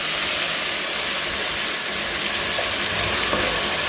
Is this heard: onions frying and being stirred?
yes